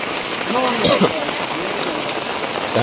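A downpour of heavy rain in Tirunelveli makes a constant, close, roaring patter. A brief human voice rises over it near the start before the rain carries on alone.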